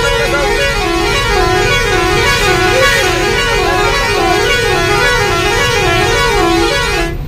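A truck's horn blares continuously for several seconds with a warbling, wavering musical tone, loud and close over road engine noise, with no talking.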